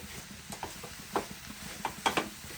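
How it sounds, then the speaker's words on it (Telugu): Broad beans being stir-fried in a pan: a faint sizzle under soft scraping and clinks of a spatula stirring, with a few sharper scrapes near the end, quiet and close. "ఇదంతా కలుపుకొని మంచిగా పచ్చివాసన పోయేదాకా ఫ్రై చేసుకొని,"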